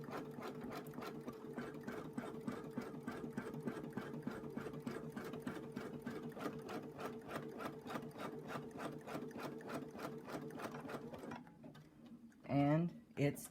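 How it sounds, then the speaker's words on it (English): A Brother Luminaire XP1 sewing machine runs a basting stitch in a fast, steady, even rhythm of needle strokes for about eleven seconds, then stops, followed by a brief clatter. "hit our start button there, and it's going to go ahead and sew out our basting stitch"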